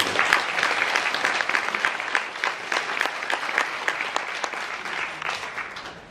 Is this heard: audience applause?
yes